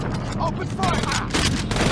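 Rapid bursts of gunfire ring out during a police shootout in the Saints Row video game, dense repeated shots under shouted voices.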